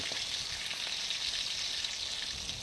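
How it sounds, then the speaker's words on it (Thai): Pork-stuffed peppers fry in a pan with a steady, close, bright sizzle that holds evenly throughout, with no voices over it. "นี่แหละเราก็ทอดแบบนี้ไปจนครบ"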